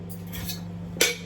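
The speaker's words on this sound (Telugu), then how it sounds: "సామాన్లన్నీ తోమేసాను, ఇవన్నీ సర్దేస్తున్నాను అనమాట." Washed kitchen utensils being put away after scrubbing: one sharp metallic clink near the end stands out, with softer clatter earlier over a steady low hum, no talk.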